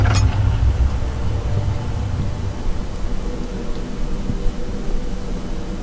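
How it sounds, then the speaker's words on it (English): Rain falls steadily outside in Amnesia: The Dark Descent, a continuous hiss with a low rumble of thunder fading out at the start. "I think that was thunder from outside."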